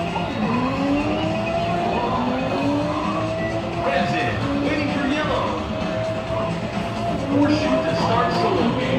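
An arcade driving game at a bowling alley plays continuous engine roar with squealing, skidding tires and rising revs, loud and steady, over the dense background noise of the hall.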